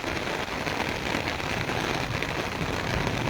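Monsoon downpour over Taunsa Sharif, rain drumming steadily on surfaces nearby in a dense, unbroken roar that stays loud from start to finish without any voices.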